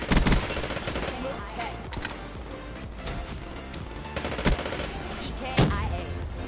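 Gun firing in the video game Call of Duty: Black Ops 3, bursts of fast automatic shots with crashes and impacts throughout, moderately loud beneath a player talking.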